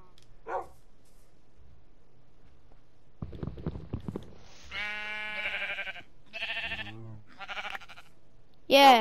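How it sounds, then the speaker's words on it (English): Several sheep bleats from the video game Minecraft, short separate calls in the second half, with a brief burst of other game noise before them and no speech. "Thanks, Wallace, for killing the sheep for me"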